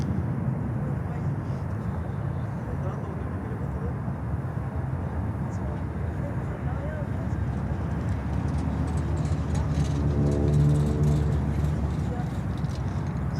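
An Airbus A330-300 airliner at Miami airport gives a steady, loud jet roar that swells slightly toward the end, with a rising engine whine late in the clip and a voice talking over it.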